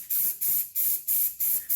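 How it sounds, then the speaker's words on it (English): A spray can lays paint onto latex-coated costume armor in five short, even bursts, each a loud close hiss separated by brief pauses. "make sure it's spraying actually paint, not just propellant"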